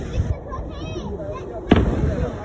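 Muffled fireworks from a fireworks show thump in the distance, a sharp burst standing out near the end, with people talking over the booms.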